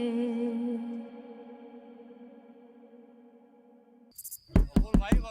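Knocking on a door in a Pakistani TV drama scene: sustained music fades, then four sharp, loud raps land in quick succession near the end.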